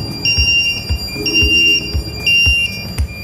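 A ship's bridge voltage alarm pulses with repeated high electronic beeps, layered with other alarm tones and regular low thumps, loud and close, with no voices.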